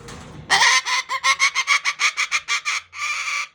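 A tumbler parrot calls out close and loud in a quick run of rhythmic, clucking squawks, followed by one longer harsh call.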